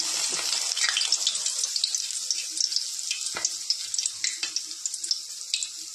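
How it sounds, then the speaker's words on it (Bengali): Battered mustard-leaf pakora drops into hot oil and fries with a steady, dense crackling sizzle, bubbling close and loud throughout with a few sharper pops. "এবার তেলের মধ্যে ছেড়ে দিলাম।"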